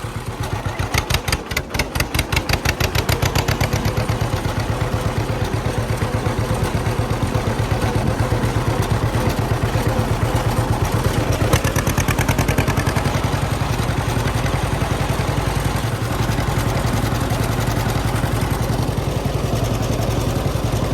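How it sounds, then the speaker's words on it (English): A tractor engine runs loudly and steadily in high gear, a close, throbbing rumble with rhythmic clatter that holds constant throughout with no talk over it. "Nice night for a tractor drive."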